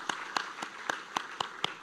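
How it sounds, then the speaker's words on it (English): Sparse, evenly spaced claps at an academic award ceremony for T.A. Marryshow Community College in 2023, about eight distinct hand claps over a quiet hall background, fairly faint. "Again, round of applause, please."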